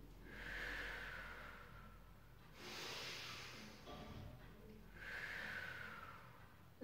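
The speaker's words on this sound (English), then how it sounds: "Take a breath in." Two long audible inhalations during a pilates exercise, each a breathy rush lasting over a second, separated by quieter breathing and faint background sound, recorded close to the microphone.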